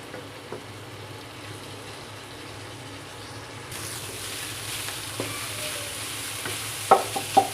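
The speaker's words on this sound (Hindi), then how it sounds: "अब इन सबको अच्छे से मिक्स करेंगे। दो से 3 मिनट के लिए मैं इन्हें भूनूंगी।" Spiced minced keema frying in a pan gives a steady close sizzle that grows louder partway through, with a few scrapes and knocks of stirring near the end and no voices.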